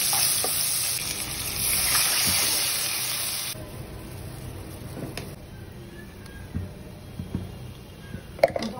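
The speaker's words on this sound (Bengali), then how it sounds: "এখন হচ্ছে এখানে আমি রসুন পেস্ট দিয়ে দিচ্ছি আর কি" Garlic paste hitting hot oil with onions already browned, a bright sizzle that runs strongly at first, then quiets to a softer fry with occasional clicks of a spoon against the pan.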